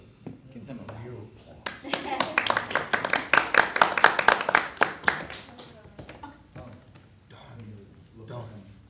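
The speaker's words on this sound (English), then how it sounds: "Give them a round of applause." A room at a city mayor and council work session breaks into a short round of applause, a few seconds of brisk overlapping claps that build and then taper off, with people speaking before and after.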